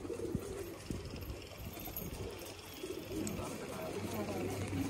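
Rooftop pigeons coo faintly amid outdoor noise and low rumble, with a person talking nearby throughout.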